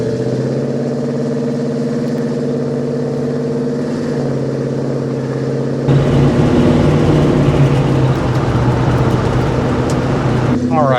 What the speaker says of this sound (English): Today we are in this 1967 Chevrolet El Camino with a 350 and an automatic transmission behind it.